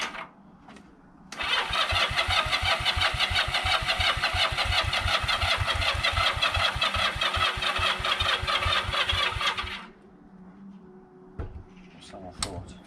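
A 1982 Honda CM125 Custom motorcycle engine fires and runs close by, a rapid, even, loud chugging for about eight seconds before cutting out, with brief speech around it.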